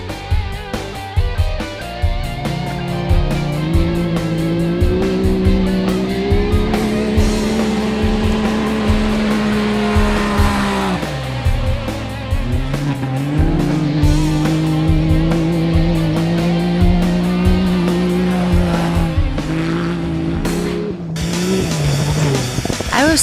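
Loud race car engines roar and rev continuously at a dusty Arizona track, pitch rising and falling as cars pass, with occasional tire squeal.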